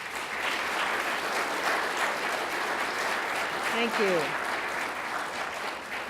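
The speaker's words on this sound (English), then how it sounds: "I think we should give all of our presenters one more round of applause." Sustained audience applause for the presenters at the 2015 Hudson Spark Awards evening, a dense, steady wash of clapping throughout, with a voice briefly speaking over it near the end.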